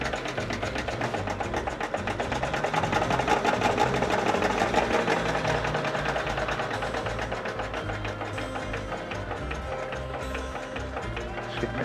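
A small coal-fired steam engine runs steadily up close, giving a dense, continuous rhythmic mechanical chugging and clatter with a fast regular beat throughout and no pauses.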